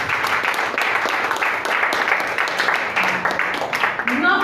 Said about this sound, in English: Please put a round of applause for them.